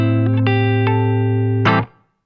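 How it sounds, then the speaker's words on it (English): Clean electric guitar on the neck pickup, played through a BOSS GT-1000 with room reverb, rings sustained notes with a few picked changes and a final stab that cuts off into a brief reverb tail. "I've got a room reverb on this guitar, so we're back on the clean tone, we're back on the neck pickup"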